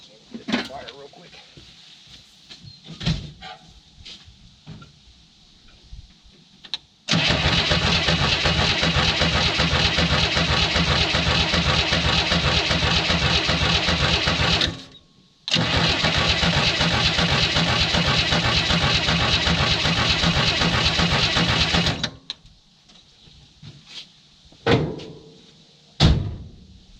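A 1967 Chevrolet Nova field find, left sitting for 30 years with a leaking throttle shaft, cranks loudly and steadily in two long sustained bursts with a short pause between, up close, bracketed by clunks and brief handling noises.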